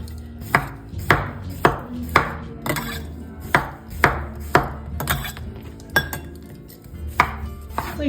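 A knife slicing a fresh cucumber on a cutting board, about a dozen crisp chops in an uneven rhythm, close and clear with no talking.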